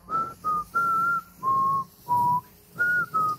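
A whistled melody resembling the Jurassic Park theme played in a minor key, a sad variation, in a series of seven sustained phrases with short pauses, clear and fairly close, without talk.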